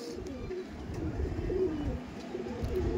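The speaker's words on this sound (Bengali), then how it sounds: "এই যে মাদি পায়রা দেখতে পাচ্ছেন" Punjabi Malbayi pigeons cooing close by in a loft, a steady low rolling coo repeating through the whole stretch with no talk over it.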